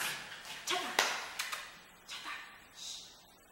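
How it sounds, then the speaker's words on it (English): A puppy playing with paper and a toy indoors, making scattered taps, rustles and sharp little knocks in short bursts, close by, with quiet gaps in between. "If you hear noise, it is my roommate's puppy playing with paper and her toy."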